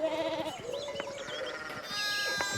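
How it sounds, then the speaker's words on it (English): Sheep bleat several times in a short burst in the video game Pentiment, the wavering cries overlapping at moderate volume over a soft ambient backdrop. "we need to get these sheep under control"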